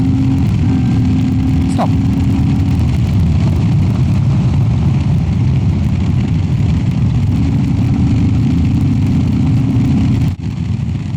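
A Royal Enfield Classic 350 fitted with a FuelX Lite and DNA air filter pulls hard under acceleration, a loud continuous engine roar with wind rush, ending abruptly as a voice calls out.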